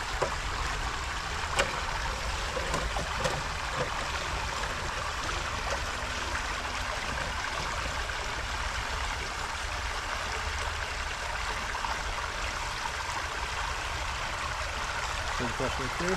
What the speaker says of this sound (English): The water's flowing so much.